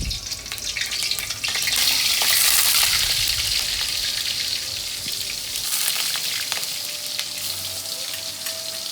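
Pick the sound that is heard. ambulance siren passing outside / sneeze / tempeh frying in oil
tempeh frying in oil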